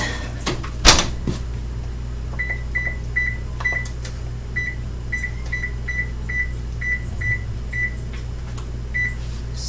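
An oven door handled at the start as a skillet breakfast goes into an oven set around 350 to 400 degrees, a single knock and clunk, followed by a run of short electronic beeps from the oven controls over a steady hum.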